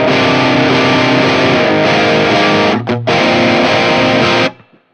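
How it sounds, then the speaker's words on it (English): An electric guitar through an amplifier on its clean channel with the gain turned up gives gritty, distorted chords, loud and sustained, with one brief break before ringing out and stopping. "if we turn the gain up, we can get some pretty gritty tones out of it"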